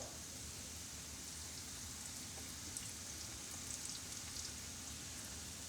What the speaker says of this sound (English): they only take a few minutes to fry up